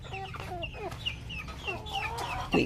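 Several native hens, one blind in one eye, cluck and chirp close by in short repeated calls over a low steady hum.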